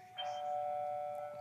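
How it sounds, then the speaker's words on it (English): A doorbell chimes once, a clear sustained electronic tone ringing out steadily and fading slightly, heard alone with a quiet room behind it. "That's the doorbell."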